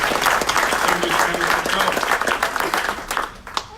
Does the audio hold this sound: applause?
yes